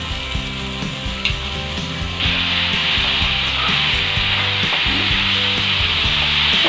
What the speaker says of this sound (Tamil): இப்போ வந்து இந்த ப்ராக்கோலியை நம்ம சேர்த்துணும்.